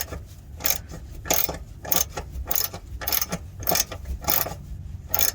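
A wrench ratchets on a heat shield bolt under a 2013 Toyota Sienna, giving several close, short bursts of rapid clicking with brief pauses between strokes.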